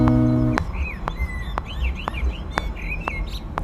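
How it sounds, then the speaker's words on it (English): Birds chirp and warble in short, repeated whistled phrases over a faint outdoor background, preceded by a brief low humming tone and punctuated by several sharp clicks. "I've got this weird sample of a tram and some birds singing"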